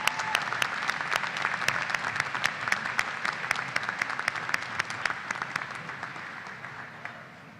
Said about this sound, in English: Let's give our doctoral and master's students another round of applause.